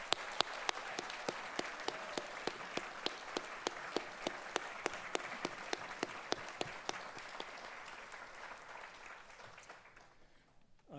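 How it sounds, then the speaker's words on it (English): Steady audience applause at a university convocation for graduating students of agriculture and graduate studies, dense and sustained clapping with a few sharper nearby claps, fading near the end. "How about one more round of applause for all of our graduating students today?"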